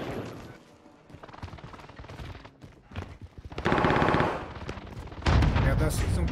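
SMG fire in the video game Fortnite, with bursts of rapid automatic shots that grow louder toward the end, mixed with game sounds and some talking.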